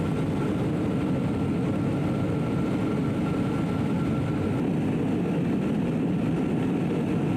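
Steady, loud drone of a B-17 bomber's propeller engines in flight, heard from inside the aircraft near an opening in the top center, a continuous low rumble with no voices.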